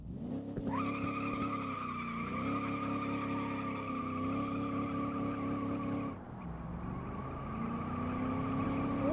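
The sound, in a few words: Soviet car spinning its wheels in the video game Automation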